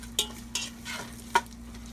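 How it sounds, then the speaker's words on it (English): Andouille sausage browns in a pan, with a low steady sizzle and three or four sharp utensil scrapes and knocks as it is stirred, close and fairly quiet. "what we're going to do is we're going to brown up this andouille"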